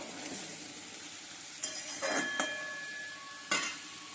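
Shol fish fries in a pan, giving a soft, quiet sizzle with a few light clinks and scrapes of a utensil against the pan, no voices.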